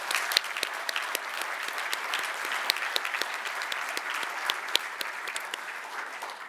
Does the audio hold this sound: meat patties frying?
no